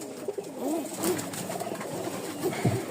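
A Giribaz pigeon hen cooing nearby in short, wavering calls, several soft throaty coos spread across a quiet background.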